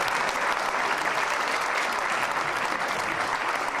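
A wrestling crowd claps steadily and loudly, a dense, even wash of applause that holds without letup from start to finish.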